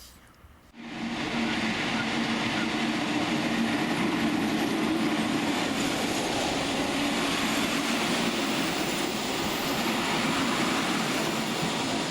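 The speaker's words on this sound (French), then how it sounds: "notre prochain train arrive, un Budapest-Szombathely." A Budapest–Szombathely train rolls into a station with a sudden onset, then a steady loud rumble and rattle of rail cars continues without pause, close by.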